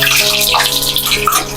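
Water runs steadily from a household tap in a home kitchen, a continuous close splashing rush that fills the whole stretch without a break, with no voices over it.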